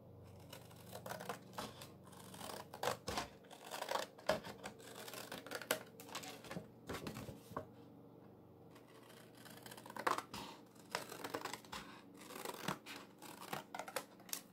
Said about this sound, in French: maintenant on va couper